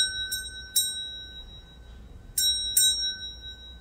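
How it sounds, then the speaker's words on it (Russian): Four bright, clear rings of a small toy bell, a handheld jingle bell shaken by a baby at home. They come in two quick pairs, close and loud over a quiet room with no talking. "Ну-ка, позвони им в колокольчик."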